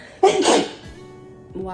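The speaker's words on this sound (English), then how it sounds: "I just sneezed." A single sharp sneeze bursts out loud and close, over in about half a second, followed by quiet room tone and a faint voice starting again, in a kitchen while fresh juice is being made.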